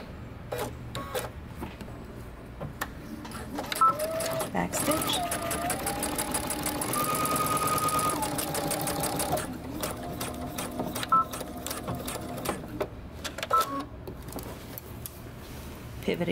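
Sewing machine stitching a coat collar in short runs that stop and restart at pivot points, with one longer steady burst in the middle, close and clear.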